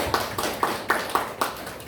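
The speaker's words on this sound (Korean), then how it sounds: "박수 한번 외칩시다." Scattered applause comes from a church congregation during a worship service, a soft, uneven clapping with distinct slaps arriving in a loose rhythm and heard from a short distance.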